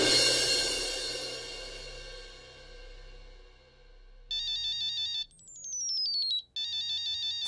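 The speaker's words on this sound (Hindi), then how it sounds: "सर एक मिनट, ऑफिस से फोन है।" A mobile phone ringtone plays a bright electronic melody in repeated bursts with a quick descending sweep. Soft background music fades out beforehand.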